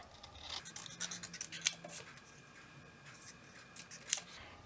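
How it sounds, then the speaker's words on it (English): Scissors snip a scrap of smoky slate cardstock, trimming a gray background for a teacup card: a series of quick, light cuts, close and quiet, with a couple of sharper snips standing out. "I'm going to snip around the edges here so I know that it fits right underneath my teacup"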